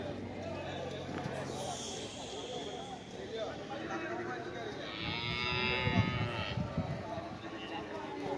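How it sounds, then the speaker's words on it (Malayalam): Cattle and buffaloes at a busy livestock market, with lowing moos over a steady crowd murmur and people talking nearby. "പാണ്ടിപ്പോത്തുകൾ. ചന്തയിൽ നല്ല സെലക്ഷൻ കന്നോട്ടിയാണ്."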